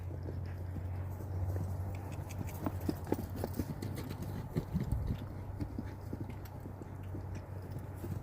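Hoofbeats of a horse cantering in a riding session, a steady rhythmic clip-clop close by over a low background rumble, continuing throughout without speech.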